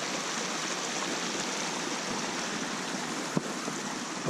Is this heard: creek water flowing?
yes